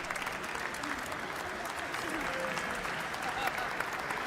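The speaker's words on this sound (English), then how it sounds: "they're gonna clap so loud" Steady, dense applause from a large crowd at the State of the Union address, continuous and fairly even throughout, with a general murmur of voices beneath it.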